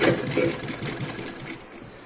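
A sewing machine runs steadily while stitching a cross cut blouse, its fast rhythmic needle chatter close and continuous for the whole stretch.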